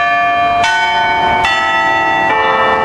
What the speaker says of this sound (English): The bells at Mission San Juan Capistrano in Orange County.